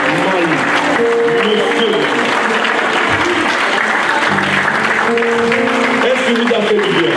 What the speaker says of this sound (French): On va se lever et on acclame le bishop.